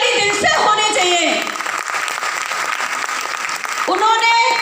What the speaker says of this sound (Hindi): हमारे महागुरु जी मिस्टर संजीव सर के लिए एक जोरदार ताली दिल से होनी चाहिए